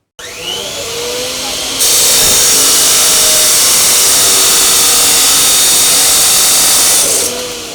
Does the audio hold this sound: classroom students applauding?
no